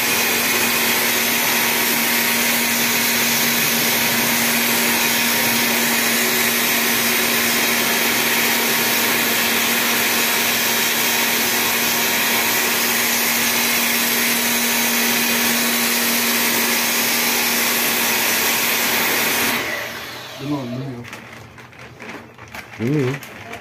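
A vacuum-like electric blower whirs loudly and steadily for about twenty seconds, then cuts off, leaving quiet talk.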